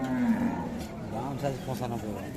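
A cow lets out a drawn-out, low moo close by at a cattle market, with faint background murmur of a crowd.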